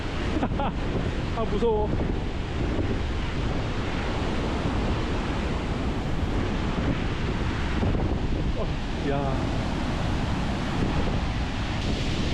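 A tall waterfall of about 80 metres in Ecuador roars as a constant heavy rush of water for the whole stretch, close and loud, with brief wind buffets and a few short spoken exclamations.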